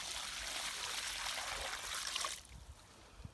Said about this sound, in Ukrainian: Потім беремо бере відерце води, виливаємо.